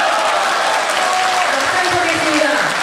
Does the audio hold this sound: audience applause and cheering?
yes